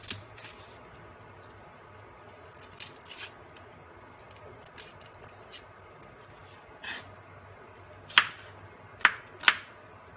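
A knife chopping onion on a board, with scattered soft cuts early on and then three sharp, distinct chops near the end, close by in a quiet kitchen.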